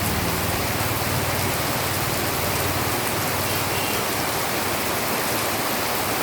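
Steady afternoon rain falls in rural Bengal, a dense, even hiss of drops on surfaces that stays loud and unbroken throughout with no voices.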